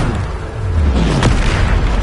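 A magical Bombarda blast from the wizarding game Hogwarts Legacy erupts as a loud, rumbling boom with a sharp crack in the middle, set against dense continuous game noise.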